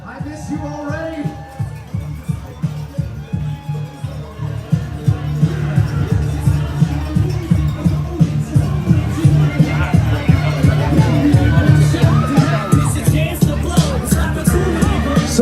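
Runners and supporters at the start of the BMO Vancouver Half Marathon, a steady crowd hubbub with cheering voices and rhythmic thumping footfalls building over fifteen seconds, loud and close.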